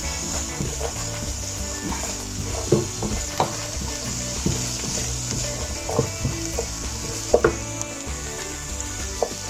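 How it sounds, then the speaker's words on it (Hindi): Two chopped onions fry in mustard oil in a pan while cooking masala okra, giving a steady close sizzle punctuated by scattered clicks and scrapes of stirring. "फिर 2 प्याज चॉप की हुई उसको पैन में डाल के हम पकाएंगे।"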